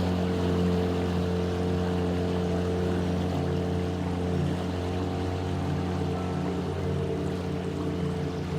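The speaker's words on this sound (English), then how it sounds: "Can we use the engine?" A dinghy's outboard engine runs steadily, a constant loud droning hum with water wash underneath. It holds an even level throughout, with no talk, on a trip among glaciers.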